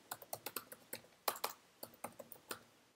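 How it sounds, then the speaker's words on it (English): Computer keyboard typing while setting up a trap beat in Ableton Live 9: a quick run of about twenty crisp, close key clicks in uneven bursts, with one heavier pair of strokes midway, alone without talk. "we can just type in a compressor"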